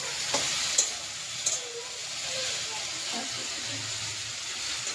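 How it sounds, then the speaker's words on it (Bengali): Okra and potatoes fry in a pan at home, giving a steady close sizzle and hiss with a few sharp stirring clicks. Faint voices can be heard in the background. "মা ভাজতেছে ভিন্ডি আর আলু"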